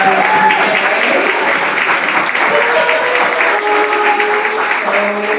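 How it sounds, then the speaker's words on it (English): An audience at a poetry event claps steadily, a loud, sustained wash of applause filling the room from start to finish. "Give yourselves a round of applause for being here on a murky"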